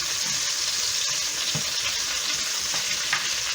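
Meat and bell pepper fry in a pan with a steady, close sizzle, brief stirring clatters breaking through now and then, and no talk.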